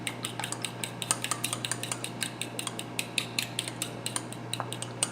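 Keto flax bread batter being stirred with a fork, giving a steady run of quick metallic clicks and scrapes against the bowl, close and clear over a low steady hum, with no voices.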